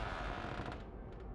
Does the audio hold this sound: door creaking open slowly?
yes